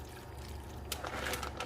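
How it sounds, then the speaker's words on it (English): Starchy pasta water poured into a pan of spaghetti sauce for baked spaghetti, a brief soft splash and trickle arriving after a quiet kitchen hum, close and fairly faint. "I'm actually going to add some of my pasta water"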